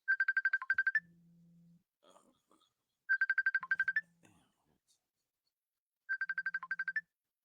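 A phone ringtone plays in three identical bursts of rapid, bright repeating beeps, each followed by a softer low hum, with short silences between bursts.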